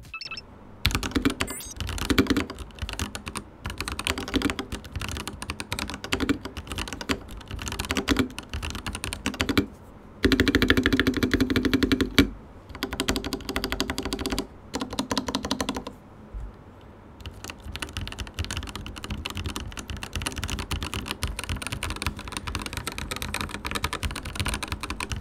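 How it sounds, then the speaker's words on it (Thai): Continuous fast typing on a FiiO KB3 mechanical keyboard, dense clacky keystrokes close up with brief pauses and a burst of heavier strokes, no talking. "ต่อไปเราลองไปฟังเสียงของตัวคีย์บอร์ดกันบ้างนะครับ"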